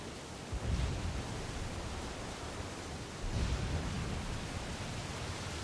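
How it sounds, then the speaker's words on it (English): Dense, steady rain hiss over the ocean in the video game Assassin's Creed Black Flag, with two low rumbling swells, no voices, even and continuous throughout. "It's raining."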